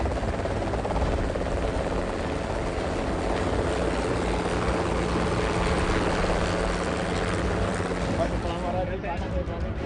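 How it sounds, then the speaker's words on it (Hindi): A helicopter lifts off from a campaign rally site, its rotor and engine roar loud and steady throughout, with crowd noise and voices blended underneath. "हेलीकॉप्टर उड़ा"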